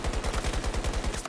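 A rapid burst of automatic gunfire from the video game Battlefield 2042 in its Infected mode, about a dozen evenly spaced shots in just over a second, loud and close.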